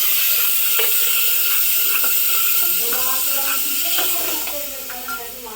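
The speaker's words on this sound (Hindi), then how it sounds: "तो बस मैंने लौकी को छौंक दिया।" Chopped bottle gourd tempered in hot oil in a home kitchen during Navratri fasting, a loud continuous sizzle and hiss with faint scattered stirring clinks that eases slightly near the end.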